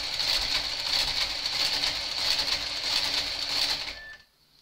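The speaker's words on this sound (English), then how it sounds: "So I'm just kind of carefully pulling my carriage over because I want to show you." Knitting machine carriage drawn carefully across the needle bed for a garter carriage cowl, a steady mechanical whirring clatter for about four seconds that stops abruptly, near and fairly quiet.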